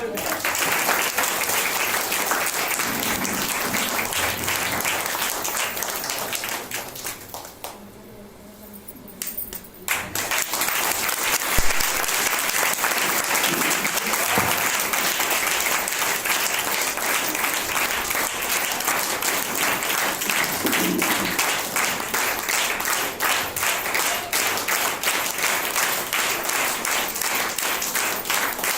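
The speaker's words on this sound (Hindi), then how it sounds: "इसलिए तालियों की आवाज कुछ कम आ रही है।" An audience at a church gathering applauds in a long, dense wash of clapping that dips briefly and then swells back, with a voice speaking over it at times.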